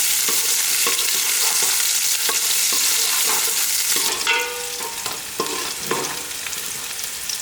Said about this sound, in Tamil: வெங்காயம் இந்த அளவுக்கு வதங்கினா போதும்.